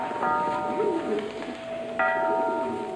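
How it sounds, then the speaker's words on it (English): A bell rings in a period drama set in a medieval village, sounding as a call for the sheep to be gathered for fleecing; a couple of clear, resonant strikes over background tones and faint voices. "That bell, why does it ring so?"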